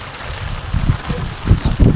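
Heavy rain pours down steadily at night during a strong windstorm, a dense wash of hiss with low rumbling gusts swelling louder toward the end.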